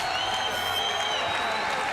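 Crowd at the Forum applauding after a women's 10-round boxing match, a dense, sustained wash of clapping with a faint voice underneath.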